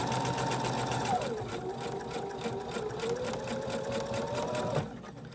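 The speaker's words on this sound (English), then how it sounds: "we just finished stitching the top edge all the way around" A sewing machine runs continuously while stitching the top edge of a lined box-bottom drawstring bag, a close, loud, steady mechanical whir that shifts pitch as the speed changes and then cuts off near the end.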